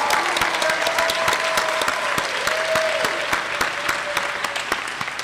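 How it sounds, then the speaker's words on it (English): A room of people at a fall honors ceremony applauds steadily and fairly loud, a continuous wash of many hands with a faint sustained tone running under the clapping. "Let's give them a round of applause."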